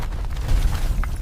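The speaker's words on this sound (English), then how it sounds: "Mehmed's cannon misfired." Cannon misfire rendered as an explosion sound effect, a short dense low rumbling boom that lasts about a second at loud level.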